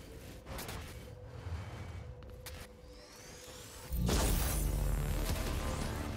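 A heavy explosion in the video game Quantum Break bursts in partway through, a loud broadband blast with a rumbling tail that follows quieter whooshing game sounds and sustains to the end.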